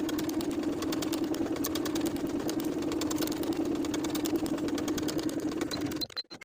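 A sewing machine runs continuously, stitching the back lining seam of a women's wool jacket, a steady whirring hum with fast rhythmic needle ticking that stops abruptly near the end.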